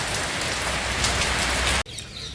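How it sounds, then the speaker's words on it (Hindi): Heavy rain pours down in a dense, loud, continuous roar of drops hitting surfaces, then cuts off abruptly near the end, leaving a quieter rain hiss. "फिर बारिश हो गई"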